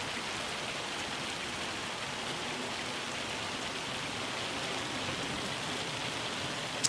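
Steady rain pours down in Farming Simulator 25, a dense, even hiss of drops on surfaces that holds constant from start to finish with no talk over it.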